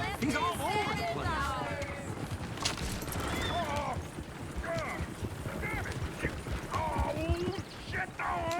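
Horses gallop in Red Dead Redemption 2, a steady clip-clop of hooves running close by, with a brief whinny, under continuous voices talking throughout.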